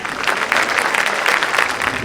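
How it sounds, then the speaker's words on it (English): A school audience gives a young actor a dense, continuous round of applause, loud and close, holding even throughout the short stretch. "Please encourage your young artist with a huge round of applause"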